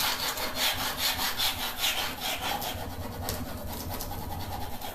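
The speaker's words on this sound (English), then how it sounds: "I am going to distress them with a piece of sandpaper." A decor transfer is lightly sanded by hand with 400 grit sandpaper, a close, steady run of rhythmic rasping strokes that quickens and softens toward the end.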